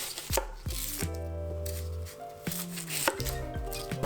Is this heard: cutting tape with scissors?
no